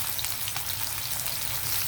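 Onion frying in hot oil for a spicy ivy gourd stir-fry, giving a steady, dense sizzle and crackle that holds evenly throughout at close range, alone and with no voices.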